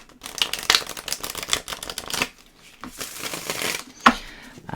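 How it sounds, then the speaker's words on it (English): Tarot cards being given a big shuffle by hand, a series of crisp papery riffles and slaps in uneven bursts with short pauses between, close and fairly loud. "let's give these one more big shuffle."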